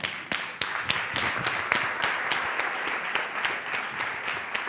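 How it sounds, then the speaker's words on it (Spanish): Audience applause at a leadership conference talk in Spain, a steady dense wash of many hands clapping at moderate distance, sustained throughout without speech. "Un aplauso grande."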